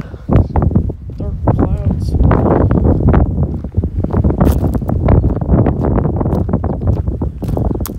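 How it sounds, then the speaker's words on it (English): Strong outdoor wind buffets the microphone with loud, gusty low rumble throughout, as someone talks over it. "Holy shit, it's fucking windy out."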